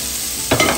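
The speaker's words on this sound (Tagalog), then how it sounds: "So, ilagay na natin itong ating mga gulay." Potatoes and carrots drop into a hot pan for menudo, a sudden burst of sizzling and frying over a steady kitchen hiss.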